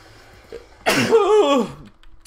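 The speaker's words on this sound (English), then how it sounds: "And I have a sneeze coming on." A single loud, close human sneeze bursts out with a breathy, voiced blast that trails off, with no talking.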